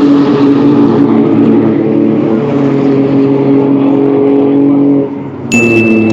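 Mini Cooper race cars rev loudly at the start of an official circuit race, a dense sustained engine drone that dips briefly before surging again.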